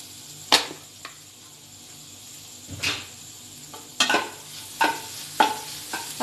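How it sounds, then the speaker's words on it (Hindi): Spice masala being stirred and roasted in a pan on a gas stove, with repeated sharp scraping strokes and a soft sizzle between them, close and clear with no talking. "ये भी थोड़ी देर भूंज लेते हैं एक मिनट चलाते हुए।"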